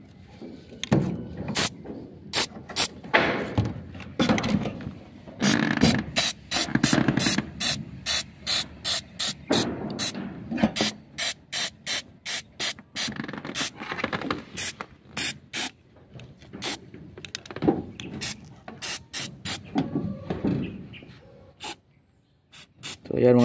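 Waterproof black leak sealant sprayed onto a leaking roof, in repeated short hissing bursts from an aerosol can, some quick and rhythmic and others longer, with a rattling nozzle and handling noise between bursts.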